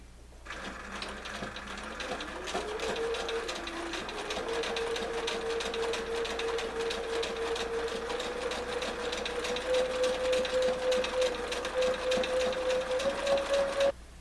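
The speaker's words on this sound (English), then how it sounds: "I'm choosing to just do the eyes by sewing them" A sewing machine runs continuously while stitching appliqué pieces onto a manatee quilt block, a steady close motor whir with rapid needle chatter that rises slightly in pitch toward the end.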